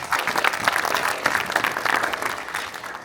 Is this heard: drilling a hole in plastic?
no